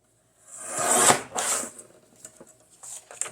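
Scissors snip a rough edge off a paper craft piece, a close, quiet rasping cut with a couple of short slicing strokes, followed by faint paper rustling.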